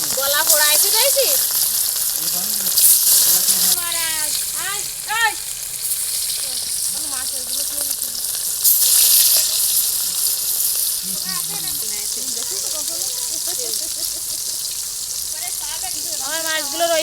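Fish pieces fry in oil in a wok with a strong, continuous sizzle and crackle that lasts throughout. Now and then the sound swells, and voices and other household sounds come through underneath.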